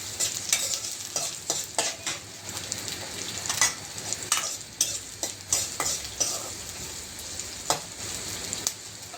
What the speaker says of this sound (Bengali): এবার এতে আমি পেঁয়াজ কুচি দিয়ে দিলাম। একটু নাড়াচাড়া করে নিই।